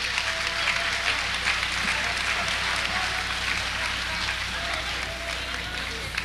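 Loud, sustained applause from a large crowd at the 1992 Miss Haiti beauty pageant at Brooklyn College, New York, dense clapping that holds steady the whole time with a faint murmur of voices beneath.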